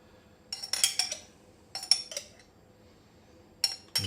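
A metal spoon scraping minced garlic from the bottom of a nearly empty glass jar, three bursts of clinking, rattling scrapes spaced apart, close and crisp with quiet gaps between.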